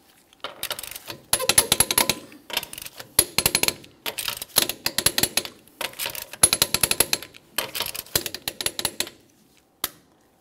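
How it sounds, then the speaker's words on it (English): A torque wrench tightens lug nuts on a Mitsubishi Lancer wheel, giving loud rapid bursts of ratcheting clicks, each run lasting about a second, repeated many times with short pauses between nuts. "we're going to be torquing each one of our lug nuts in a crisscross manner to that 80 foot-pounds"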